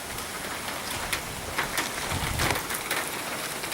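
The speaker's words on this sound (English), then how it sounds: "Raining all day." Steady rain falls outside on a windy spring day, a dense, even hiss with scattered drops pattering on surfaces, close and continuous with no voices.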